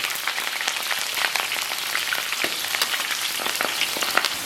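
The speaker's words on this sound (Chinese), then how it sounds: "给锅里边稍微来点这个油，油温7成热啊，咱们把提前切好的葱姜蒜给它下里边" Scallion, ginger and garlic sizzle and crackle in oil heated to about seventy percent in a wok, a dense, steady frying hiss with scattered pops close by, no voices over it.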